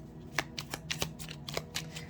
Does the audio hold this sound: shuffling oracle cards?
yes